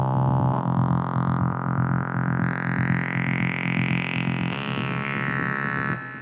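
A sustained, buzzy synthesizer tone with a washy reverb tail, shifting in brightness as it plays continuously for several seconds without voices.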